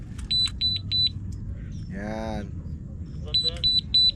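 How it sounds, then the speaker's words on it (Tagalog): Short electronic beeps from a fishing rod bite alarm at a pond in light rain, repeating in bursts of three or four near the start and end, with a person speaking briefly between them. "lagyan ko lang ng alarm oh"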